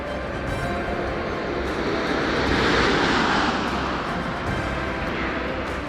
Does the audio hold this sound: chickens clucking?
no